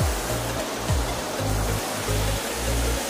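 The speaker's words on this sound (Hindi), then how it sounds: "ये जो पानी गिर रहा है" Water falls steadily at a temple in Porbandar, a constant broadband rush close to the microphone with a low rumbling undertone, no talking.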